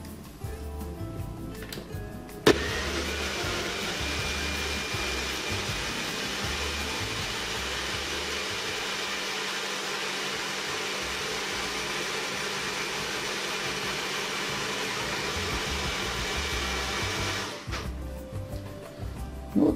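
Magic Bullet blender whirring steadily as it blends strawberries into nectar, a constant loud motor drone running about fifteen seconds between handling clunks at start and end.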